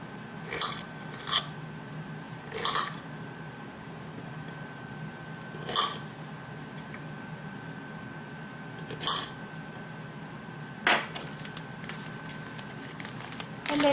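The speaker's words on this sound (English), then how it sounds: "what we're going to do is just cut them up into little pieces" A knife cuts peeled squash and zucchini into bite-sized pieces, giving a handful of spaced, crisp chops against a board, close but fairly soft over a quiet background hum.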